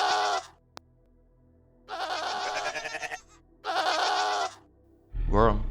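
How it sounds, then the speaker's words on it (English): Three loud, drawn-out goat-like bleats from a chimera creature in a roguelike game, separated by short silences, with a brief click early on and a lower growling cry at the end. "chimera bleating"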